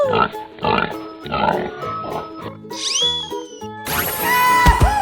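A pig in a 3D animal video game oinks and grunts in a quick series of close, cartoonish snorts, followed by bright electronic chimes and tones.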